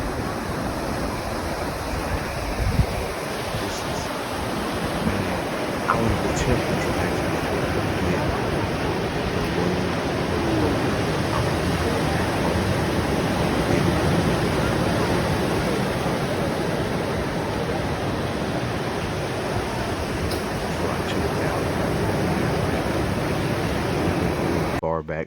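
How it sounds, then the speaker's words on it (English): Ocean waves crashing on a beach, a loud, steady roar of surf filling the whole stretch with constant wash and rumble, heard alone with wind buffeting the microphone. "The waves was crashing."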